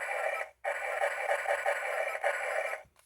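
A continuous electronic buzzing firing blast from a Star Wars Naboo N-1 Starfighter toy plays for a few seconds, cutting out once briefly before resuming, then stopping.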